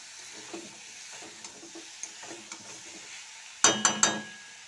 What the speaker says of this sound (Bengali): ক্যাপসিকামটা দিয়ে আলু ও ব্রোকলির সঙ্গে ভালোভাবে মিশিয়ে নিচ্ছি।